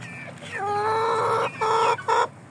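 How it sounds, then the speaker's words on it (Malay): A hen, a game-breed fowl, gives a drawn-out rising cluck followed by two shorter clucking bursts, close and clear against quiet background, the kind of call a hen makes in the days before she starts laying. "ayam sebelum ni bunyi tu tanda-tanda dia nak telur."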